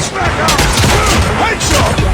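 Continuous rapid gunfire in the mobile shooter Call of Duty Mobile, loud and dense with booming edges throughout the short burst, no pause between shots.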